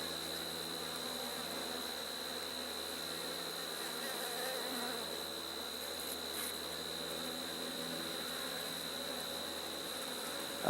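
Honeybees buzz in a steady, dense hum throughout an open-hive inspection, close and constant with no pauses, with no voices heard.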